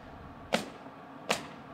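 Two sharp pneumatic nail gun shots at a construction site, spaced under a second apart, each a crisp snap over a low background hum of site noise.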